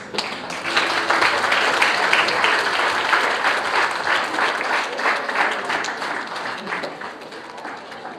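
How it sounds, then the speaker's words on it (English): An audience breaks into sustained applause at a 2021 celebration event, dense clapping filling the room at steady loudness and easing slightly toward the end. "Give them an applause"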